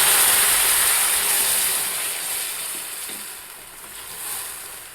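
A hot tempering is poured into taro root tamarind curry with the stove switched off. It makes a bright, close sizzling hiss that starts strong and slowly fades over a few seconds.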